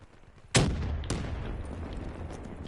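Grenade blast in Call of Duty Black Ops 3 online multiplayer on PS4: a sudden loud boom midway, then a second sharp report and a rumbling, crackling tail of gunfire that lingers to the end.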